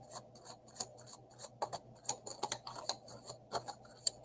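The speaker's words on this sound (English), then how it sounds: "I'm not good at shuffling." A deck of tarot cards is shuffled by hand, giving quick, crisp riffles and flicks in uneven bursts, close and moderately quiet, with no talking.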